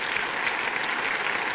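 Audience at a cabaret performance clapping in a brief, dense burst of applause, steady and fairly close with no voices.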